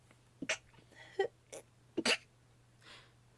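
A couple of short, sharp sneezes burst out in a quiet room, with small breathy sounds in between.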